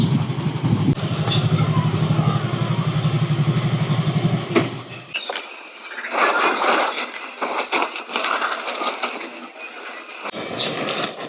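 A Honda ADV 160 motorcycle engine idles and revs close by, steady and loud, with a shift in tone partway through as the engine note changes.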